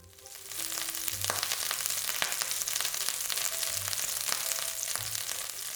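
Onions and peppers hit hot olive oil in a wok and burst into a loud, steady sizzle that holds throughout, broken by occasional sharp crackles and light scraping knocks.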